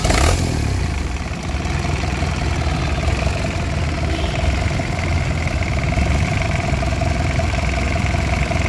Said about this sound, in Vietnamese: Máy nổ rất là đậm luôn nha anh em